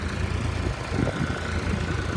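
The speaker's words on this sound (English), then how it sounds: "Got Dad's tractor started" A tractor engine idles close by with a steady low, throbbing rumble and faint vibration, alone and fairly quiet for a couple of seconds.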